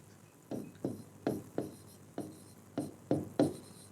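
Pen strokes scratch across paper during a science lesson, eight short distinct scribbles in an uneven rhythm, close and clear against a quiet background.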